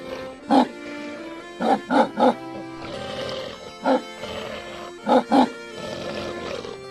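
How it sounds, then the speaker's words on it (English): Dogs bark in short bursts, a few quick barks in clusters with pauses between, moderately close over a low background rumble. "and the barking of hunting dogs nearby."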